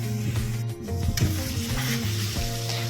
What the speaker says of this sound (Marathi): आता हे वाटण पण त्यात भाजून घेऊया मस्तपैकी.